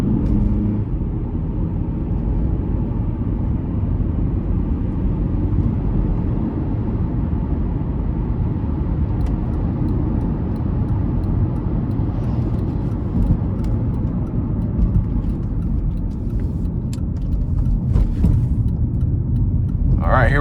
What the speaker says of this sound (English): Now I'm gonna take it on the interstate here and put my foot into it and just see how it does